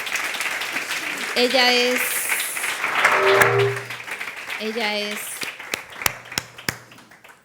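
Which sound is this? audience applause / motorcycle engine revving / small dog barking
audience applause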